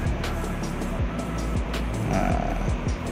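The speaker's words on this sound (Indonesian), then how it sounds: "jadi ini mobil hidup, mesinnya hidup, AC-nya hidup" A Honda City Hatchback sits parked with its engine and air conditioning running, giving a steady low idle hum with repeated soft low thumps and a broad airy hiss throughout.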